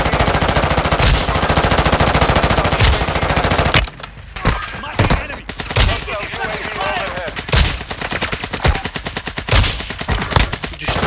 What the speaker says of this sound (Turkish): O soldan sıkıyorlar bizi.